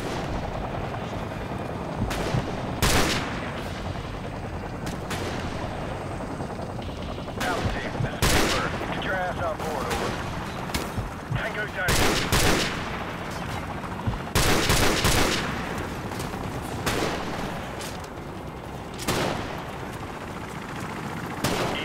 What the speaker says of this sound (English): I'm getting shot at really bad